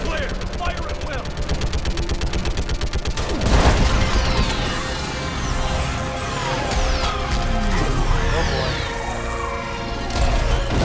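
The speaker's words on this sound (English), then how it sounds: "I need an orbital strike" Orbital strike explosions in Mass Effect 3 against a live Reaper: dense, continuous booming blasts and crashing impacts that swell into a heavy barrage after a few seconds of rapid rattling fire, loud and close, with voices talking over it.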